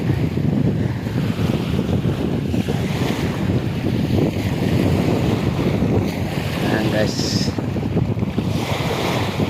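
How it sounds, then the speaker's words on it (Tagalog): Waves churn at sea during a typhoon with rain and gusting wind, a loud continuous roar and wash buffeting the microphone, while someone speaks briefly over it. "Hindi na masyadong malakas ang alon."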